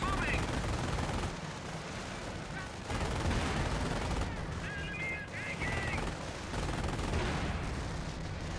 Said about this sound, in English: Mortar half track receives some shots there.